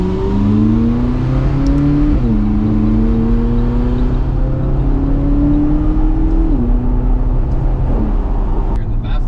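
A McLaren 570S engine accelerates on a night drive, its loud, continuous drone rising in pitch through the gears with two brief dips at the shifts, heard from inside the car.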